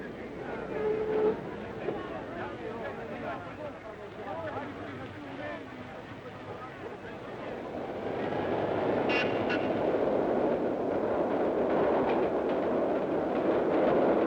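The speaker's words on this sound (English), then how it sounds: "fast electric trains run on tracks laid beneath streets and buildings" Electric subway trains rumble along tracks beneath streets, the roar growing louder and steadier in the second half, with a faint squeal near the middle and a voice early on; 1948 recording.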